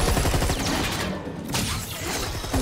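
Loud, dense gunfire in Resident Evil 6, rapid overlapping shots packed into a continuous burst that barely lets up for a couple of seconds.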